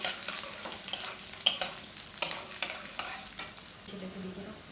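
Onions frying in a pan for Bengali-style ghugni, a soft sizzle under repeated scraping stirs with a few sharp utensil clinks against the pan, close and fairly quiet.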